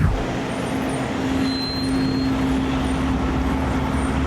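A Solaris Trollino 12 trolleybus on route five in Vinnytsia pulls in nearby, a continuous loud road rumble with a steady electric whine holding throughout.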